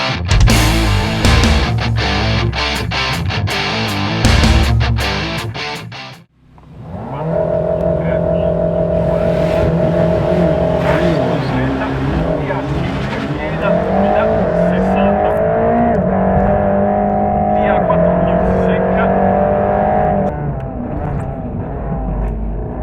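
Mercedes-AMG GT Black Series on Michelin Cup 2 R tyres climbing the Cesana–Sestriere hill climb, its engine loud and continuous with rising and falling revs through gear changes, a brief drop mid-run, then sustained high-pitched acceleration.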